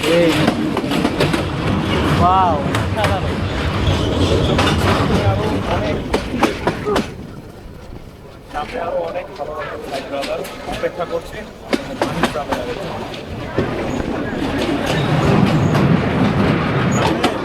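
Mohua commuter local train running over a rail bridge, a steady rumble of wheels and carriages with rhythmic clatter and brief squeals, voices chatting over it throughout.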